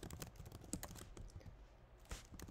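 Code being typed on a computer keyboard: quick, irregular light key clicks in a close, quiet run with no voices.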